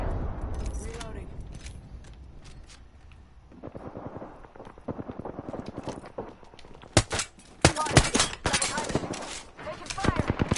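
Gunfire in Apex Legends, bursts of rapid automatic shots and sharp cracks that grow denser and louder toward the end, with a game voice line speaking over it.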